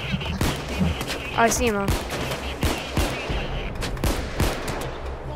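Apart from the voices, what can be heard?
gunfire from the video game Payday 2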